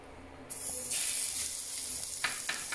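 Chicken shashlik sticks go into hot olive oil over a medium flame, and a sudden loud sizzle breaks out and settles into a steady, close hiss with small spits.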